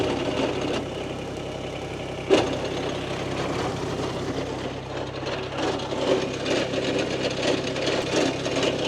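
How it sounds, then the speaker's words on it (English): A subcompact tractor idles steadily while its PTO drives a hammer knocker attachment, giving a low, even mechanical drone with faint rattling and one sharp knock early on. "let's turn it on and let's watch this hammer knocker start spinning"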